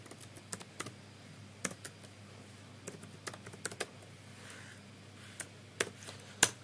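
Python code is typed on a computer keyboard in irregular quiet clusters of keystrokes with a few sharper taps, close by and with no speech.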